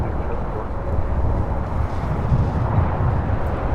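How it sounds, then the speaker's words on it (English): An American Airlines A321 jet taking off from LAX gives a loud, continuous broadband roar with low rumble and wind noise, steady throughout, with faint talk underneath. "This is American Airlines 274 taking off to JFK on an A321"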